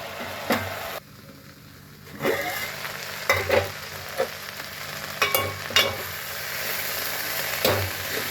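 Guar cluster beans fry and sizzle in a pan for Punjabi bhuni sabzi, a steady close hiss broken by several sharp stirring scrapes and knocks.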